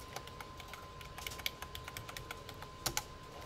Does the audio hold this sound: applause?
no